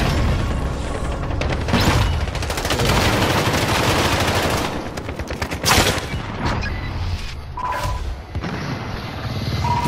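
Gunfire in a shooter video game: dense, loud volleys of rapid automatic shots and booming blasts that run almost continuously, easing briefly and then flaring again with sharp bursts toward the end.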